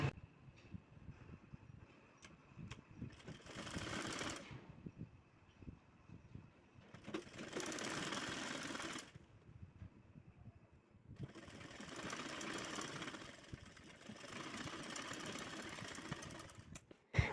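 A sewing machine stitches a folded strip along the edge of a blouse, running in three long whirring bursts separated by quiet pauses, close by and steady, with no talking.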